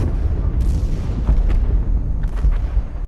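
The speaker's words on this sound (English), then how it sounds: "a series of explosions shattered the air" A rapid series of explosions rolls in as deep, continuous rumbling booms, loud and heavy throughout, fading abruptly at the end.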